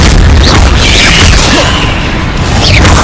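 An Incendio fire spell bursts in the Hogwarts Legacy game, a loud, dense rumbling blast of flame with whooshing texture filling the whole moment without pause.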